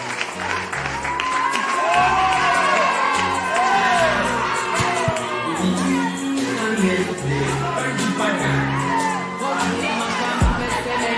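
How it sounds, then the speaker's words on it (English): An audience at a TV talent show erupts into sustained applause, whoops and cheers for a contestant, a dense crowd roar with scattered shouts running throughout. "Ladies and gentlemen, a round of applause for Jib Sam."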